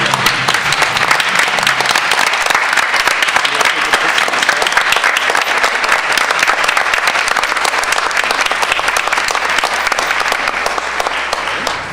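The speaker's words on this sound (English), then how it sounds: "let's give Isaac a huge round of applause on obtaining this great honor" Loud, dense applause fills a school board meeting room for a student honoree, continuous clapping from a crowd holding steady for about twelve seconds before easing slightly at the end.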